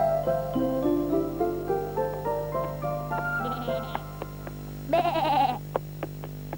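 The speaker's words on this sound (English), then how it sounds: "Bleated the sheep." A sheep bleats once, loud and wavering, over a cheerful melodic music bed with plucked notes in a children's farm-animal story.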